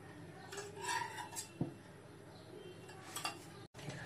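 Metal spoon clinking against a pan while ghee is added for masala paneer pulao, a few light clinks and taps scattered through a quiet kitchen.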